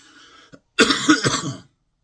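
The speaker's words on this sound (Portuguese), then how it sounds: "Eita, tosse." A single harsh cough right up close, a brief throaty burst after a moment of near silence.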